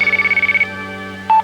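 Radio Shack mobile phone ringing in a late-1980s TV commercial: a loud, pulsing electronic trill in quick repeated bursts, then a short steady beep, alone with no voices.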